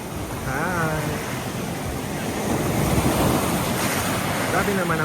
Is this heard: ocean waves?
yes